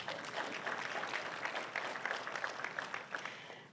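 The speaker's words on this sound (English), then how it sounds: "Can we give Brandy a round of applause?" A symposium audience claps for a presenter, an even wash of many hands applauding at a moderate distance throughout, no voices on top.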